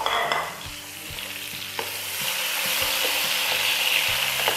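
Tomatoes stirred and fried in a pan for beef pulao, a steady sizzle with repeated scraping strokes of a spoon against the pan.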